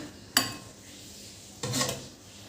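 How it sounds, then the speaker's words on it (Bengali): Thick jute-leaf and pea lentil dal is poured from a cooking pot, giving two brief, close scraping bursts of utensil against metal, with quiet pauses between them. "এরপর আমি এটা ঢেলে নিচ্ছি"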